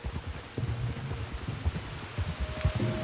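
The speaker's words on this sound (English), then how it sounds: "You were right about the damn rain." Steady rain in the video game Red Dead Redemption 2 patters and hisses across surfaces, with low rumbling thuds and scattered drops, a dense wet wash with no voices.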